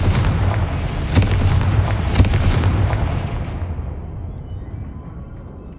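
A Confringo explosive spell cast in the Hogwarts Legacy video game: a loud, deep booming blast with crackling bursts that rolls on and fades out over several seconds.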